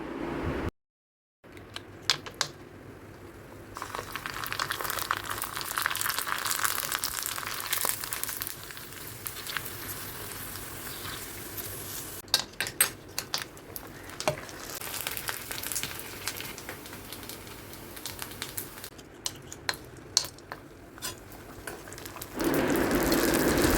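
Fuchka puris deep-frying in hot oil give a steady, close sizzle and crackle that runs almost the whole time, broken only by a brief gap near the start and rising louder at the end.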